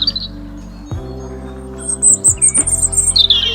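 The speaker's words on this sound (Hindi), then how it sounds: "लाल चिड़िया को इंग्लिश में रॉबिन कहते हैं।" A robin sings over a steady low musical backing, its thin high chirps and trills coming in short bursts, near and fairly clear, with no voices.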